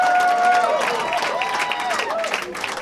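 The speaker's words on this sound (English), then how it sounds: "We'll keep that applause going for the former vice president" Steady audience applause with cheering at a Washington, DC comedy roast, a dense wash of clapping under a voice with whoops rising through it.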